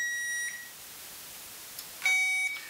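A circuit tester beeps while probing a fuse in a radiator cooling fan circuit, two short clear tones separated by a quiet gap, the second slightly louder.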